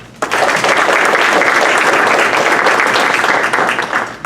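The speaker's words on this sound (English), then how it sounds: "Let's give a round of applause for our supporters." An audience at a school board meeting breaks into steady applause, many hands clapping together at close range with a dense, even roar that holds for about four seconds before easing off.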